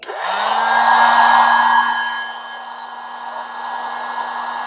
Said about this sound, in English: slide our heat shrink over our joint, make sure that it covers it all the way around, and blast it